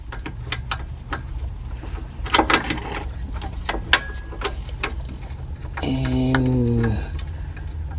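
Swivel-head ratchet turning a shallow 15 mm socket while removing a Jeep Grand Cherokee 3.6 starter, giving a series of sharp close clicks and ticks with a brief whirring burst near the end.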